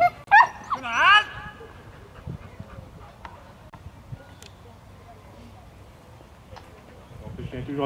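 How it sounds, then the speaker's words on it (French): A working dog at the Beaujoire 2017 French protection-dog event gives a few high yips and whimpers at the start, then the scene settles into background crowd noise and someone talking. "Vous voyez, le chien intercepte directement."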